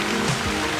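A garden water fountain splashes and trickles in a steady, dense hiss of falling water, close and continuous, with no talking.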